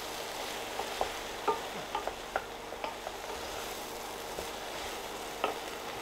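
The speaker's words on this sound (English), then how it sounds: "Then in with the aubergines and coat those too. Just keep it cooking." Aubergines fry in a pan with a soft, continuous sizzle while a utensil stirs them, adding scattered light clicks and taps against the pan throughout.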